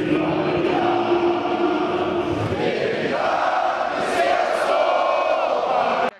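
A football crowd in a Simferopol stadium, Crimea, roars and chants continuously, with loud massed voices, shouts and whoops swelling midway and a whistle-like cry near the end.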